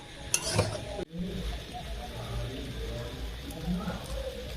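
Boiled kabuli chickpeas are sautéed with spices in a pan, giving a faint sizzle and occasional stirring scrapes beneath a person talking.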